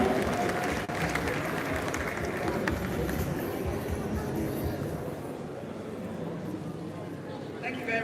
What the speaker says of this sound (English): A warm round of applause. And I love that standing ovation